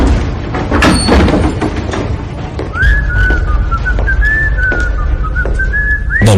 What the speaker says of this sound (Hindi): आराम से सीटी बजाता हुआ